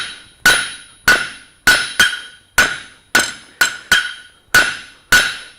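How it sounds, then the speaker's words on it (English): Blacksmith's hammer striking hot metal on an anvil while drawing out, ten sharp ringing blows at an uneven working rhythm, each clang decaying quickly, loud and close with no talk. "To increase the speed and efficiency of your forging, you have to utilize the curved surface of your anvil."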